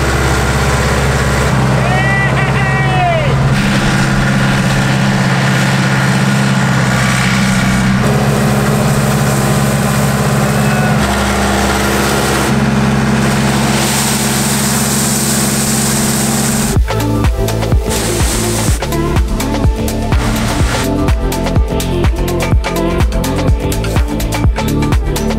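Mini excavator engine running loud and steady at a mansion restoration dig for an underground theatre, then shifting to a harsher rhythmic knocking and clattering under load, with voices talking over it.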